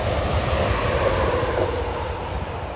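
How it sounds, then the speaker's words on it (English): BNSF auto train of car-carrying wagons rolling past on the Oregon Trunk line near the Columbia River drawbridge, a steady, loud broadband rumble of wheels and cars sustained throughout. "Auto trains have been a regular sight recently over the line."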